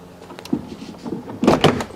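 Door of an Audi A4 B8 opened from inside, a soft latch click followed by a louder clunk and rattle of the door as it releases, close up with no talking.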